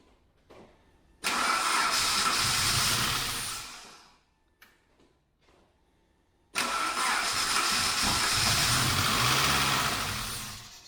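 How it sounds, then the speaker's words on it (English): Car with a dead battery and turbo pipes removed, two long cranking attempts that churn for a few seconds each without the engine catching, separated by a quiet pause. "so that'll probably be why it doesn't want to turn over"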